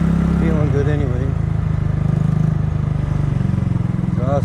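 A Kymco People scooter with a freshly painted exhaust runs nearby, giving a loud, steady, throbbing engine drone throughout while a person talks over it.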